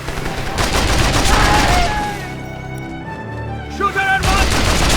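Loud bursts of automatic gunfire and explosions fill a co-op battle in Mercenaries 2: World in Flames, easing briefly into a quieter tonal stretch before the shooting swells again.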